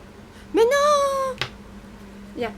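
A kitten gives one clear, drawn-out meow up close, followed by a fainter short mew, while someone speaks briefly to it in a home.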